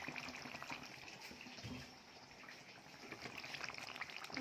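Hot water poured into a pot of cooking Rewazi mutton and potatoes, a steady close splashing pour with sizzling that continues throughout without talk.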